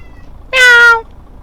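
A pet cat named Sooty lets out a single clear, close meow of about half a second, loud against near silence.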